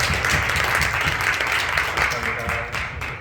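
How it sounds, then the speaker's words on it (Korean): A church congregation claps in thanks to the young people who lead the worship, with brisk, steady applause that fills the room for a few seconds and fades slightly at the end. "감사의 박수 한번 할까요?"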